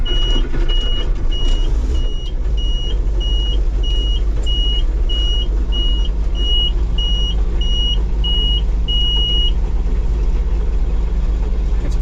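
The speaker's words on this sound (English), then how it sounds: "It's probably gonna keep beeping at me because it's reading the coolant levels a touch low" A White 8700 combine's low-coolant warning beeper sounds in a steady, evenly spaced series of short high tones over the low rumble of its idling engine, then stops.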